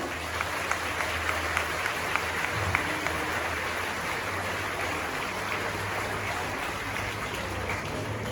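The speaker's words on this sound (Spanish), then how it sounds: "vamos a darle un aplauso al Señor" A congregation at a Divine Mercy religious retreat applauds, a continuous dense patter of many hands lasting several seconds with low voices murmuring beneath the clapping.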